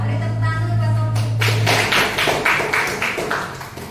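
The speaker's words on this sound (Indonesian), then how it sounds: "Beri tepuk tangan dulu buat Taufik." A classroom of students claps for a classmate, starting with a low hum and a tap, then a burst of loud, rhythmic hand claps in a small room that gradually slows and thins.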